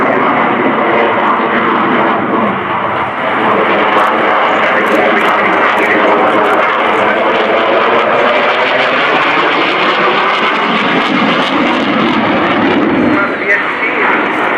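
A MiG-29 Fulcrum jet fighter flying a display at RIAT 2015, a loud sustained jet engine roar whose pitch sweeps slowly as the aircraft passes, with a commentator talking over it.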